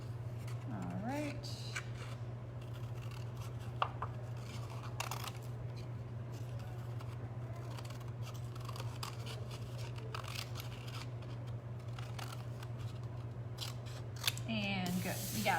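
Scissors snip out paper shapes for a mixed-media bison painting, a steady run of small cuts over a constant low hum, with some faint talking in the background.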